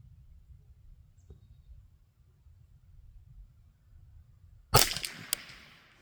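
A single sharp .22 LR shot from a CZ 512 rifle cracks out after several seconds of quiet background hum, followed by a faint smaller click.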